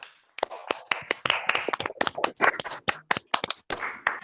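Participants in an online convocation clap over their microphones, scattered sharp claps from several people overlapping irregularly, some close and clipped, with brief gaps and a few taps and scrapes mixed in.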